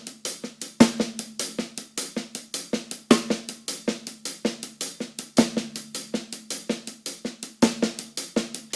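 Shuffle on a drum kit with the left-hand ghost notes played too loud, giving a busy, even stream of snare strokes between accented rim shots in a steady, close, unaccompanied groove.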